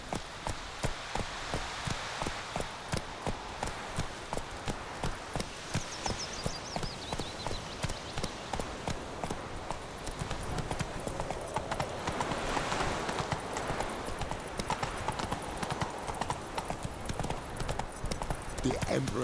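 Roach, the horse in The Witcher 3, gallops with steady rhythmic clip-clop hoofbeats on ground, close and continuous, joined later by rushing wind and rain-like texture, with game speech over parts of it.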